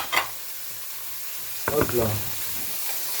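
Eggs fry in a pan with a continuous soft sizzle, broken by a quick stirring clatter and a short spoken remark.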